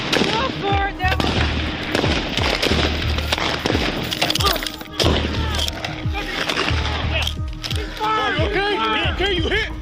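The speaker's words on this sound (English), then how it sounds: "Gunfire erupted." Gunfire erupts during a violent attack on police officers answering a 911 call, with loud, rapid, sharp bangs in dense irregular bursts mixed with shouting voices throughout.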